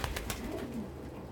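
Pigeons or doves gathered at a feed dish coo softly, low murmuring calls rising under a few scattered knocks and shuffles, close by.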